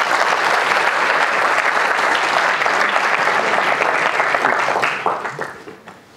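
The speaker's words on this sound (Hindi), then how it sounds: "हाँ ताली बजाओ," Students at a university freshers' session burst into dense, sustained applause from a large group, steady and loud for several seconds before tapering off into scattered claps.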